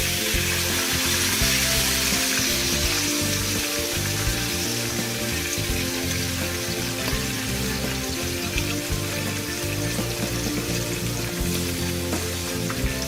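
Bream fish fries steadily in a non-stick pan, a loud, continuous crackling sizzle with dense popping that holds evenly throughout, alone with no talking.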